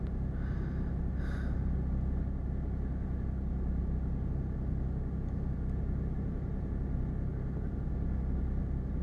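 A car engine idles through its warm-up, a steady low rumble holding evenly from start to finish with no speech, and a couple of faint brief breathy noises near the beginning.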